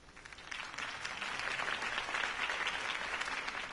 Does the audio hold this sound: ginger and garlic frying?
no